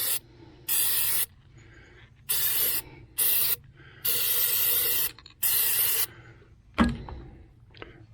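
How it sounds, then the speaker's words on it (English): Corrosion X anti-corrosion spray hissing into a boat trailer hitch receiver in six separate bursts of about half a second to a second each, close and loud, followed by a brief metallic clunk. "So I'm going to spray that in there."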